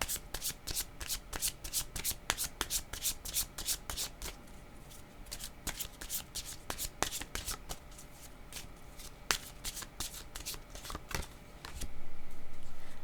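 Playing cards shuffled and riffled in rapid crisp flutters, close and steady for most of the span, a card reading going on quietly without talk over the shuffling.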